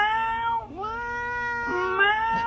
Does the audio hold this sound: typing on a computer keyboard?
no